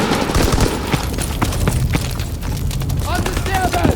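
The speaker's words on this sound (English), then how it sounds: "Keep firing!" Dense gunfire in the World War II shooter game Call of Duty WWII, rapid rifle and machine-gun bursts with booming blasts throughout, layered under shouted voices.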